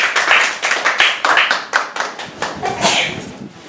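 Close, rhythmic group hand-clapping in a worship gathering, strong claps falling in a quick, regular beat, with voices, including a child's, mixed in under the clapping.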